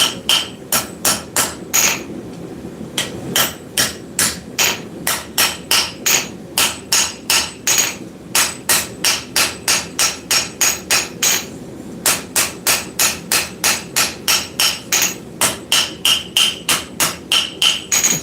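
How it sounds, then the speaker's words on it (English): A small planishing hammer strikes hot steel on an anvil while a taper is forged in a workshop, giving a fast, steady run of sharp metallic blows that pause briefly now and then, loud and close with no talking. "This is just a little planishing hammer."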